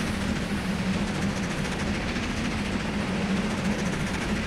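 A steady train rumble in the Trainz simulator game, with a low droning hum and faint rhythmic clatter, running continuously and fairly loud with no talking.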